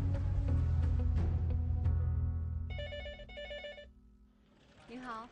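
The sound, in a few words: telephone ringing at 12345 citizen hotline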